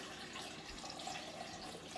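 Warm water runs from a tap into a sink for proofing yeast, a soft, steady, continuous splashing stream, faint and unbroken, with no voices over it.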